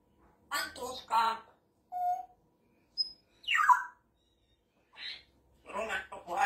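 A pet parrot gives a few short squawks and whistles, including a sharp high whistle and a rising call, mixed in among close indoor speech from a person talking to the bird.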